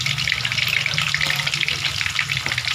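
Dried milkfish (daing na bangus) from Pangasinan fries in hot oil with a steady, bright crackling sizzle, continuous and close, over a low background hum.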